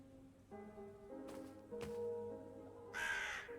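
A raven in a spooky game scene gives a raspy caw near the end, preceded by quieter tonal game sounds and soft rustling, with no talking.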